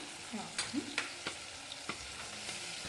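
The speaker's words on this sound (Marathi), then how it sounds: "आता हे आपलं चांगलं फ्राय होऊ द्यायचं" Dal tempering with cumin, tomato, turmeric, red chilli powder and garam masala sizzles steadily in a pan, with a spoon scraping and clinking in repeated sharp stirs, close and fairly quiet.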